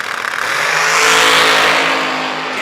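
A blower dragster launches and races down the drag strip, a loud, rising engine roar that swells to a peak and then fades slightly as it pulls away, with no voices heard.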